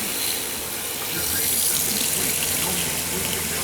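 Water runs steadily from the kitchen sink faucet in a 2023 Alliance Valor 31T13 RV, a continuous close splashing rush that holds at an even level throughout.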